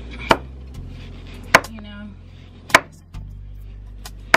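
A knife cuts through mangoes on a cutting board while fruit is prepared for baby mango puree. Four sharp, evenly spaced chops ring out close and loud, with quiet gaps between them.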